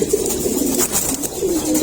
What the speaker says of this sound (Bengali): এখানে আট পিস কবুতর আছে